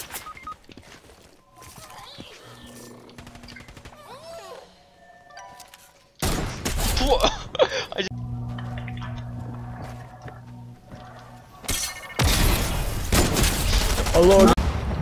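Video game gunfire rattles in bursts of rapid shots and fusillades, loud and close in the second half, mixed with game effects and music, while players talk and shout.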